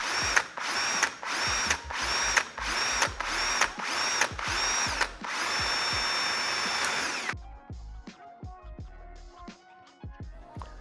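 A power drill bores holes through bolts in preparation for safety wiring: several loud, close whirring bursts in a steady rhythm, then one longer sustained run, followed by quieter clicks and taps of tools being handled.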